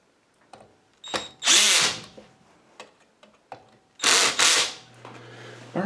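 A power drill running at max speed with the torque turned down while an upright vacuum motor is reassembled, giving two loud close whirring bursts separated by quiet clicks and handling noises.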